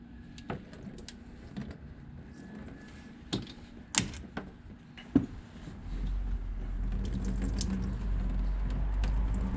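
Coolant draining from a disconnected hose on a Buick Encore with a 1.3L engine, first a few sharp irregular drips and taps, then a steady close splashing stream that builds and continues.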